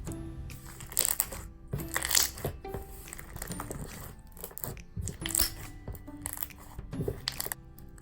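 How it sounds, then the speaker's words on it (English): Slime with jelly cubes mixed in is squeezed in repeated bursts, giving crunchy, crackling pops with short quiet gaps between them, close up. "the jelly cubes gave the slime a super nice and crunchy texture"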